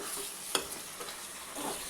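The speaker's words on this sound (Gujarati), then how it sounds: "ડોડાને આપણે મસાલાની સાથે સારી રીતે મિક્સ કરી દેવાના છે" Corn cobs being stirred with spices in a pan to make makai nu shaak: steady soft sizzling with a sharp scrape partway through and a few light stirring knocks, fairly close and quiet, with no voices.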